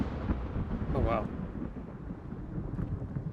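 A thunderstorm in the Rising World video game, with a low rumbling thunder roll and steady wind-like noise, a brief voice-like sound partway through.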